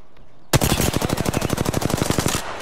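A single loud, close burst of rapid automatic gunfire in Apex Legends, about two seconds of evenly spaced shots in a fast steady rhythm.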